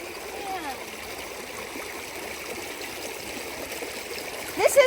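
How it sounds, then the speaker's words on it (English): Water rushes steadily over a creek's rapids and small waterfall, a broad continuous wash with light splashing, fairly close, and a brief sharper splash near the end. "This is a bigger waterfall. This is like rapids."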